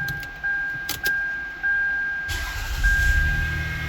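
Keys jingle in the ignition of a 1998 Lexus ES300 being repaired for an all-keys-lost B2795 fault, then the engine cranks with a low, steady churning that runs loud to the end.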